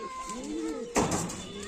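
A racing pigeon coos close by in soft, low rising and falling calls, followed by a sudden flutter or rustle of movement.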